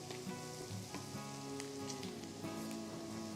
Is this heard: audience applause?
no